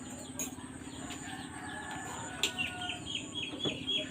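Chickens cluck softly and steadily nearby, with occasional sharper calls and a brief flutter over a constant low hum.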